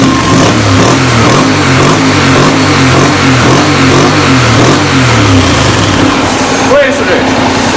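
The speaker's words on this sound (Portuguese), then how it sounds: "Abriu a borboleta, já percebe que muda bem o ronco." A Honda NC700 motorcycle fitted with a Roncar sport exhaust revs up from idle, its throttle opening in rising and falling engine sweeps, loud and close with a deep, rumbling note.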